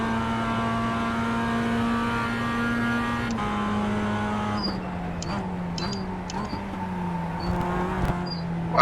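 Race car engines in the iRacing sim game during a production car event at Charlotte hum steadily with sustained tones, then shift pitch and drop as cars brake and accelerate out of a corner, with faint clicks and a voice talking briefly.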